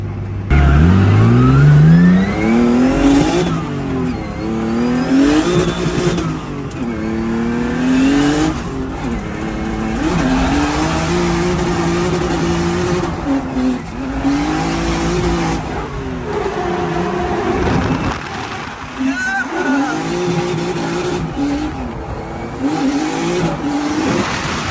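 A BMW drift car at full throttle roars close and loud, engine pitch climbing and falling through repeated revs while tires squeal in long bursts, with no voices over it.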